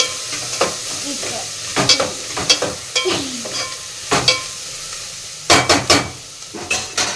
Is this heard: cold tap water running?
no